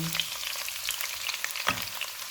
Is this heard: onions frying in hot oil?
yes